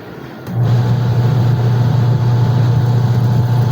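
A single-tub washing machine's motor starts up and runs with a steady low hum and a constant mechanical drone, loud and close.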